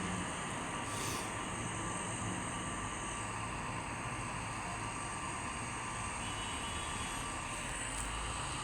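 Continuous engine drone of an airplane flying high in a video game, a steady broadband roar with no breaks, moderately loud and alone without talk.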